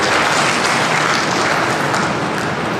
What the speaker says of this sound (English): Can we have a round of applause for both our participants?